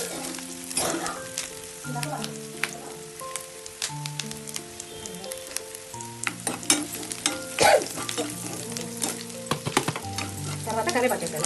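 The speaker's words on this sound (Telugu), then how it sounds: "కరివేపాకు వేసాను" Curry leaves sizzling and frying in hot oil while cooking Nellore-style pongal, a steady close crackle with stirring clinks and scrapes of a utensil, some faint background tones and no clear talking.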